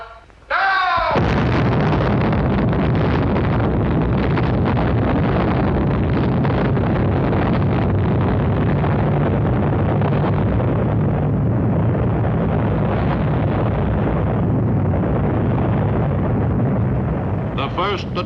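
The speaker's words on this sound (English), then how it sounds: "The first atomic bomb explosion was an impressive success." First atomic bomb test explosion, a massive, unbroken roaring rumble that starts abruptly after a brief opening and fills the whole stretch at full loudness without easing off.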